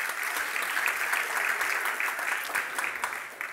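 Audience applause at a regional culture congress, a steady dense patter of many hands clapping throughout, moderately loud and continuous with no voices over it.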